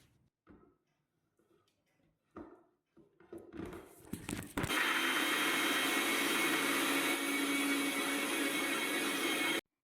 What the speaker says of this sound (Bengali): অল্প একটুখানি জল দিয়ে ভালো করে মিক্সিতে পেস্ট